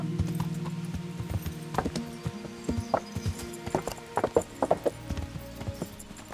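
A dappled grey horse's hooves clip-clop at a walking pace in Kingdom Come: Deliverance, steady and close, over a low droning musical background.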